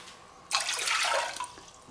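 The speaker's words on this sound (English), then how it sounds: "we're just going to add our 2 cups of water." Two cups of water pour into a pan for a shrimp stir fry, a steady splashing stream beginning abruptly, close and fairly loud for about a second, then tapering off with a few trailing drips.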